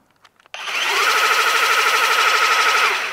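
DeWalt 60V power tool motor running steadily on its low setting, a loud close whine that starts abruptly after brief handling clicks and holds constant for nearly three seconds before easing off.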